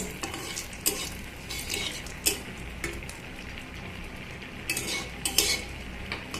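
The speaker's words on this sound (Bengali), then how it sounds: "এবার এটাকে ফোড়নটাকে একটু নেড়ে নেব।" Spoon clinking and scraping in a pan as tempering spices are stirred, irregular sharp taps over a low sizzle, close and moderately loud with no talking.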